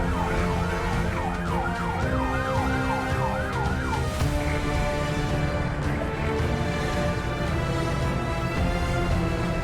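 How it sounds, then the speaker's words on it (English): An ambulance siren wails loud and close in a massive Sao Paulo traffic jam, its rising and falling yelp giving way to a steady tone over dense engine rumble and traffic noise. "look at this ambulance stuck in a massive traffic jam in Sao Paulo"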